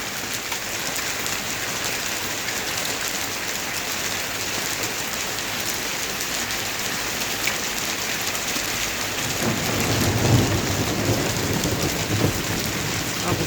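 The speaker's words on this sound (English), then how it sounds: "I'm keeping it running because you've had a few claps of thunder." A UK thunderstorm brings steady heavy rain pattering on surfaces, with a low rumble of thunder swelling after the midpoint, and no voices.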